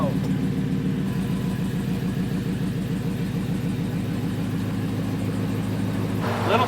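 A car engine rumbles steadily at a low idle-like pace as the car creeps forward very slowly, a continuous even drone throughout with a slight rise at the end.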